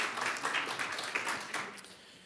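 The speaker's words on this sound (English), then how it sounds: "Can we have another round of applause for Bethany's presentation?" Another round of audience applause for a conference presentation on the economic cost of dementia, moderately distant and steady, a short patter of many hands that tapers off.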